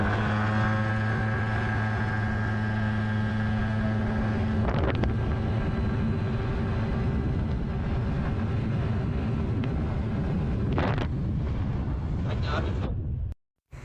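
Yamaha Fazzio scooter upgraded with new rollers and dual clutch linings, ridden at top speed: a steady engine hum with heavy wind roar buffeting the microphone, loud and sustained before cutting out at the end.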